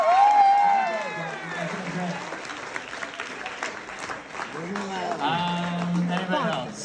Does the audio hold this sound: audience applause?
yes